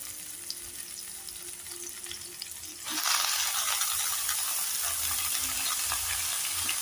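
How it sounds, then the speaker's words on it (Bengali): Chopped mustard greens drop into a wok of hot oil with fried eggplant, and a quiet background sizzle jumps into a much louder, sustained hiss and crackle that holds close and steady, with no talking. "এখন আমি বেগুনটা ভাজা হয়ে গেল, এখন আমি এর মধ্যে শাকটা দিয়ে দিব।"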